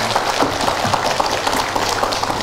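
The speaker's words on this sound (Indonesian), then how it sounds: "Ya, tepuk tangan Bu, Masya Allah." A room of women at an Islamic study gathering applauds, a dense, steady patter of clapping that holds evenly throughout without pause.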